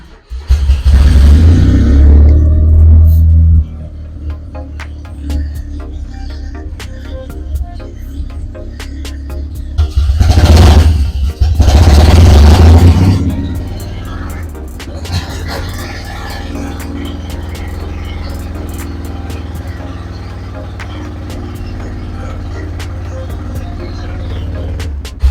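A 1986 Honda kei truck engine cranks and fires, revs loudly a few times, then settles into a steady low idle that runs on for over twenty seconds, with people talking nearby.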